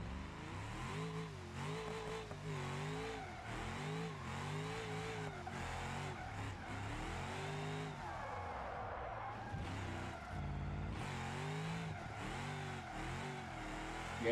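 A car drifting in BeamNG.drive, its engine revving up and down continuously while the tyres skid and squeal through the slides, loud and close with no talking.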